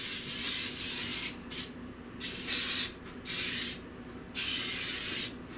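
Several short hissing bursts from an aerosol can, five or so sprays separated by brief pauses, close and fairly quiet.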